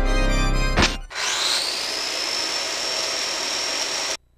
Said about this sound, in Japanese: そのチェーンソーは一体？